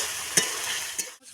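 Chopped green chillies frying and sizzling in hot oil for a soybean curry, a steady close hiss with a couple of brief stirring scrapes, then a short pause near the end.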